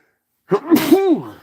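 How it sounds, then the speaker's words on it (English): A single loud, close sneeze, with a sharp intake and a burst of air, alone against silence. "And I got to sneeze."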